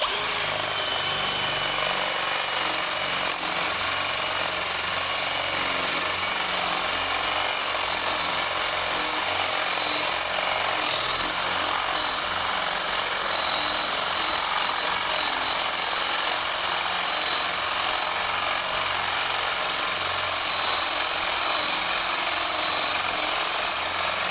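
Cordless drill-driver set to screwdriver mode rather than drilling, working on a new garden fence beside a peony bed; a steady, high motor whine runs close and continuously for about 24 seconds with no talking.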